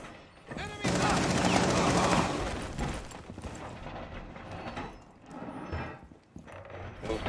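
Gunfire in Rainbow Six Siege erupts in a loud rapid burst of shots for over a second, then gives way to scattered quieter cracks and in-game action.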